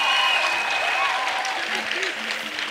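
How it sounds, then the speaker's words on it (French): A congregation at a French and English Christian gathering applauds for Jesus Christ, a steady crowd of clapping throughout while a few voices call out over it. "Clap into Jesus Christ."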